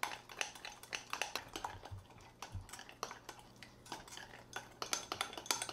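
A utensil stirring keto pecan pie mug cake batter made with almond flour in a bowl, repeated quick scraping clinks in a loose, fast rhythm, close up and fairly quiet, with no talking.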